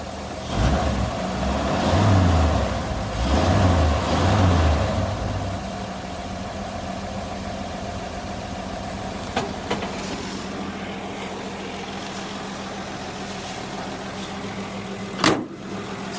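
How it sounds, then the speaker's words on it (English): 1954 Chevy 3100 pickup truck with a Hydramatic automatic, its engine revved a few times in quick blips close by, then settling into a steady low idle. "So it runs real good. We'll rev her up a little bit."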